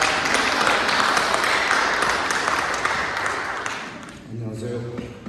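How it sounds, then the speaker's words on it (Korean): A church congregation gives a full round of encouraging applause at a Sunday service. The clapping is dense and steady, fades after about four seconds, and a voice begins speaking. "우리 다시 한번 격려하며 격려하는 박수를 하도록 하겠습니다."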